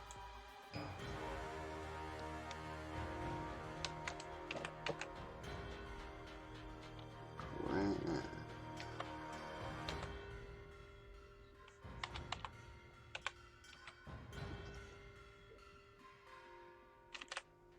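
Typing on a Dvorak right-handed keyboard, quick clusters of key clicks and taps with brief pauses, close and moderately loud over a faint steady background hum.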